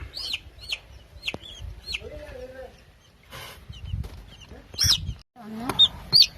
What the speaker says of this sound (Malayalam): നമ്മൾ കോഴിക്കുഞ്ഞിന്റെ കരച്ചിൽ കുറച്ച് അധികമായപ്പോൾ ഒന്നുകൂടെ വന്ന് നോക്കിയതാണ്